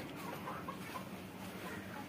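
Sonali chickens cluck softly and steadily throughout at a poultry farm, a dense, continuous murmur of many birds heard from a moderate distance with no talking.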